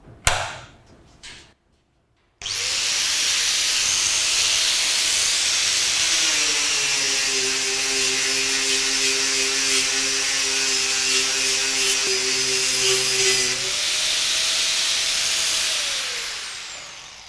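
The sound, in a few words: Bosch 4-inch angle grinder with fiber sanding disc on metal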